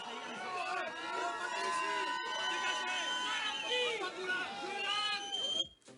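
A large outdoor crowd on the Ile de Sein, France, jeers and shouts at Marine Le Pen in a sustained wave of booing and whistles, with overlapping voices and chatter throughout.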